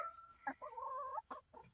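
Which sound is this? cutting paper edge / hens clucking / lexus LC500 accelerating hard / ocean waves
hens clucking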